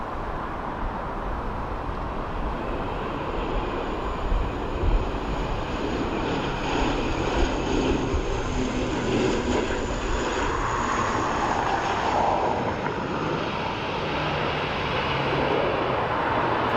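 An ATR turboprop at Dublin Airport gives a steady, broad engine roar that holds loud and even throughout, with no voices.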